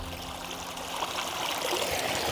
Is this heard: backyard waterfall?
yes